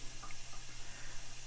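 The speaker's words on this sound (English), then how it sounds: "let's turn off the water" Tap water running into a darkroom sink while washing a large format photo print, a steady, faint rushing and splashing with no voices.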